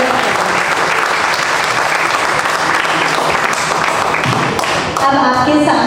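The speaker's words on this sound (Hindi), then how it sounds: "इन कलाकारों के लिए जोरदार तालियों के साथ स्वागत करें।" An audience at a stage play breaks into loud, sustained applause, dense clapping filling the room, with a brief dip and a rise near the end.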